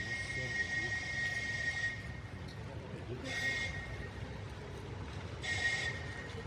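An electric tourist road train moves through the streets of Maribor with a steady low rumble. Bright, whining tonal bursts recur every couple of seconds over faint background murmur.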